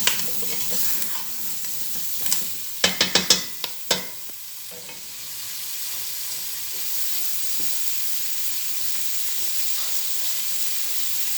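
Vegetables sizzle and fry in melted butter in a pan for a Moroccan green squash dish, with a steady hiss and a cluster of clinks from stirring near the middle, then a calmer, continuous sizzle. No one speaks.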